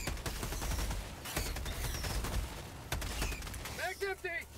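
Rapid bursts of video game gunfire crackle and pop loudly in a sci-fi shooter battle, firing repeatedly until the magazine runs dry, followed by a few short electronic chirps.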